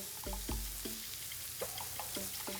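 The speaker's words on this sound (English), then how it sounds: "And you can see how the melting fat makes the meat sizzle." Satay skewers sizzle on a grill as melting fat drips, a steady faint crackle punctuated by several sharp pops and ticks, with no voices.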